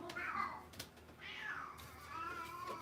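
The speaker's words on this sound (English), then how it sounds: "Oh, you hear my cat out there?" A house cat meows from just beyond a closed bedroom door, three drawn-out, rising and falling cries spaced through the moment, muffled by the wall and fairly quiet.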